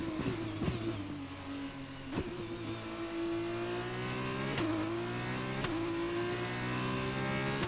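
A Formula 1 car engine in the F1 2021 video game screams at a steady high pitch, with sharp gear-shift blips dropping and rising in tone, loud and continuous with no talk.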